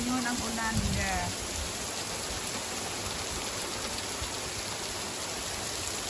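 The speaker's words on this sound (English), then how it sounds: "look at the rain." Heavy rain falls on grass in a steady, dense hiss that carries on evenly, with a brief voice and faint tones near the start.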